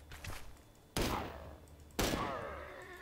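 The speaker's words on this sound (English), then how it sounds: "I'm going to shoot" Gunfire in Lego Worlds: a faint shot or two, then two sharp loud blasts about a second apart, each trailing off with a ringing decay.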